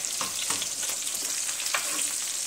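Pork chops and onions fry in a pan, a dense close sizzle with bright crackling spatters and occasional scraping as the food is stirred, steady throughout and free of speech.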